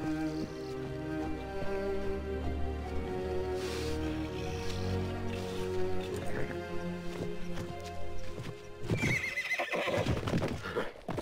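In a horse-riding video game, a horse whinnies and its hooves clip-clop over background game music, with a few louder neighs rising through the layered tones.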